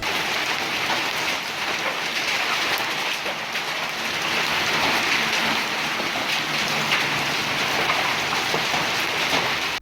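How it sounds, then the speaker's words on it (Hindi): Heavy rain and hail pound down during a storm in Hassan Abdal, Pakistan, a dense, loud, continuous hiss of drops striking surfaces with no voices. "आसमान से बरसती हुई ज़ालाबारी खलियानों में सजे सोने जैसी फसलों के लिए नुकसानदेह साबित हुई"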